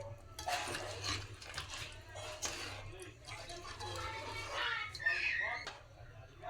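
A spoon stirs a chicken and potato curry in a pan, making repeated soft scraping and clinking strokes at close range, with a faint steady hum underneath.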